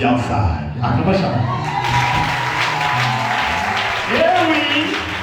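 A congregation at a Sunday worship service breaks into acclamation, with voices shouting and calling out at first, then a dense, loud burst of clapping and cheering that carries on under continued voices and singing.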